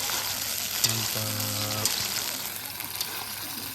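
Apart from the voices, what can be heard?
stirring potatoes while cooking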